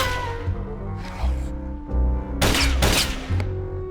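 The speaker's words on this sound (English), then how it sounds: "He wouldn't be able to hear me over the gunfire." Bursts of gunfire in the PC game Voodoo Detective crackle over a steady low hum of game music, with the heaviest rapid volley packed into the middle, loud and close.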